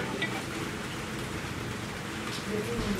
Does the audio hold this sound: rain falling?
yes